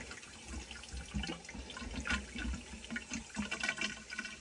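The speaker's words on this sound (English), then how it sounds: "Open up the taps. Right, downstairs taps on." Water rushes steadily from taps opened during a service of a Megaflow unvented hot water cylinder, a loud, continuous splashing flow close by.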